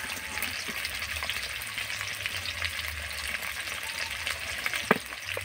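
Potato pieces fry in hot oil with salt and turmeric, a steady dense sizzle running throughout with a few light clinks of stirring and one sharp tap near the end; no voices.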